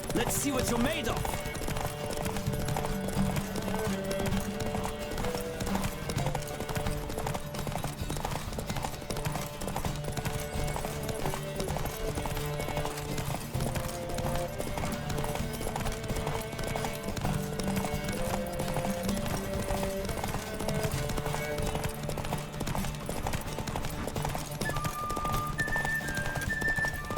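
Galloping horse in a race in the video game The Witcher 3, with a steady clip-clop of hooves and an occasional whinny under continuous game music and shouted rider voices.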